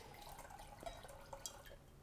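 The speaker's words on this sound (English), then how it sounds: "I can't see how much I'm pouring, so if you need more, let me know." Wine poured from a freshly opened bottle into glasses, a quiet trickling splash with a few faint drips, soft and close with no talk.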